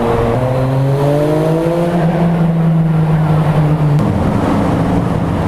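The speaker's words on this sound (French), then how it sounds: "On va faire crier la moto un peu." A track motorcycle revved hard inside a tunnel, its loud engine note climbing steadily through the rpm before dropping sharply near the end, close and echoing with no talking.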